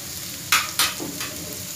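Onions sauté with salt in a pan for curry leaf chutney, making a steady close sizzle broken by two sharp bursts of stirring and scraping, with a fainter scrape after them.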